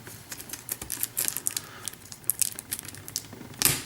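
Close crinkling and rustling of packaging as an X-Wing miniatures game box is opened, with rapid tapping clicks and small scrapes throughout and a louder crackle near the end.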